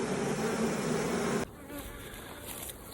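Honey bees buzz loudly and steadily at Langstroth double-deep hives, a dense droning hum close up that suddenly drops to a softer, more distant buzz halfway through, with no speech.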